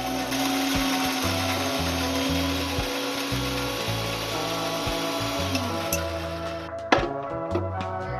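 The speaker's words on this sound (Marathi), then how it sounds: "हे सर्व जिन्नस मिक्सर मधून फिरवून घेऊया." A kitchen mixer grinds green chillies, garlic and cumin into a coarse thecha, with a steady, loud motor whine and rough churning that runs throughout and then cuts out near the end.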